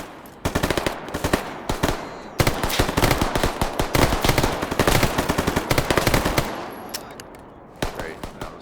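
Automatic gunfire in the video game Stalker Gamma rattles in long, rapid bursts with brief pauses between them, loud and close, tapering into scattered shots near the end.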